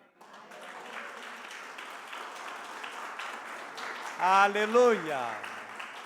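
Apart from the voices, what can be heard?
congregation applauding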